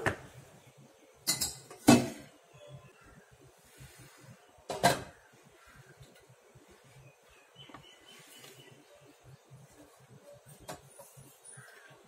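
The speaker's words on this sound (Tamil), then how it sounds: "அந்த முன்சூடு பண்ண பாத்திரத்துல மூடி எடுத்துட்டு அந்த நம்ம கேக் டின்னை uh, உள்ள வச்சுட்டேன்" Lid lifted from a preheated pot and a cake tin set inside while baking an eggless, butterless vanilla cake without an oven: a few sharp metallic clanks and clatters close by, with quiet handling noise between them and no talking.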